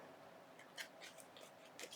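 Scissors trimming washi tape during paper crafting give a few faint, brief snips against a quiet room background.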